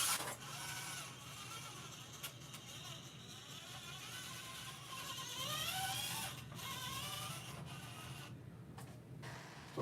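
A small electric RC car motor whirs and whines faintly as the car creeps slowly across carpet, its pitch rising and falling with the throttle amid light rubbing and clicks.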